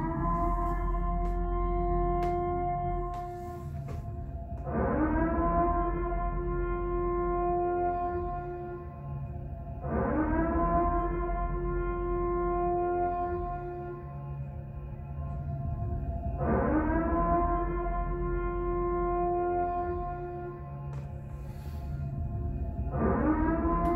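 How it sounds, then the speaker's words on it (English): Purge siren sounding across a city street as a curfew signal, a loud rising wail that climbs and holds in long cycles about every six seconds, repeating several times with no voices. "Crowley police use Purge Siren to signal curfew for"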